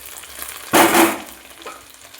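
Potato and pointed gourd fry in hot oil, giving a sudden loud sizzling burst that fades over about a second into a softer, steady crackle, close by.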